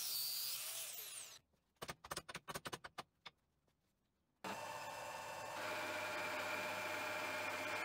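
A lathe machines a new flange nut for a lathe spindle, heard as a close motor whine, then a quiet gap with a quick run of sharp clicks, before the machine starts up again and runs steadily.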